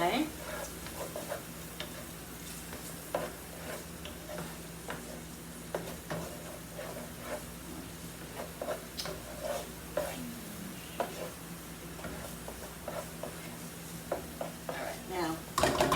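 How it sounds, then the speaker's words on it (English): Food sautéing in a pan on a home stovetop as spaghetti squash and stuffed peppers are cooked, with a steady low sizzle under scattered stirring scrapes and utensil clicks against the pan, and a person talking at times. "let's get this sauteing a little bit"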